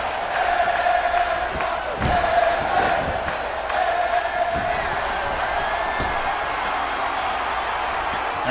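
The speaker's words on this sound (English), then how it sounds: "Crowd starting to get behind her." A video game wrestling arena crowd in WWE 2K17 roars and cheers during a women's match, with the noise swelling and surging in waves and sharp impact thuds breaking through the crowd sound.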